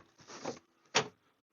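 Inside a VW Caddy van being converted to a camper, a pull lever releases the door: a soft mechanical click and rattle, then a sharper clunk as the door opens, close by and quiet, with no talking.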